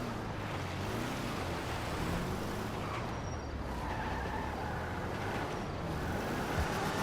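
Imponte Deluxo from Grand Theft Auto Online driving along, a steady, loud engine drone blended with a broad, wind-like rush that stays level throughout, with no talking.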